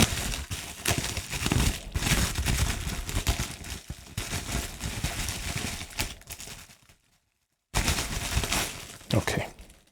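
Crinkling and tearing of plastic wrapping as a new MIDI controller is unpacked, busy close-up rustles and crackles for several seconds, a brief silent pause, then more crinkling.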